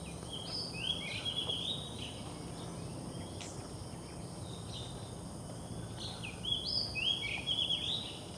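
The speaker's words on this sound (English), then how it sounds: "Any of you recognize the sound of the bird?" Birds call in Taman Rimba Kiara Park in Kuala Lumpur, with high chirps and trills in two short bursts, one near the start and one near the end, over a steady hum of insects at moderate distance.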